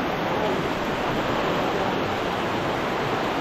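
Water rushes steadily from a large natural spring in Quezon, a constant close, loud broadband wash with no pauses.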